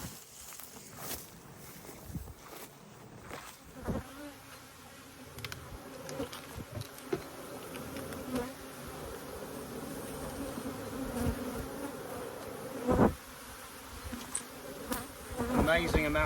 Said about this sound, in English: Amazing amount of bees in each colony.